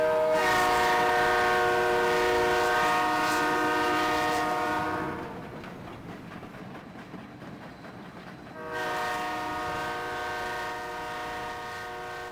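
A train horn blares long and loud in India, fades out for a few seconds as the train rumbles by, then sounds again.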